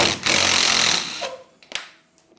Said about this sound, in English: We're just gonna pop it off here real quick with our little M12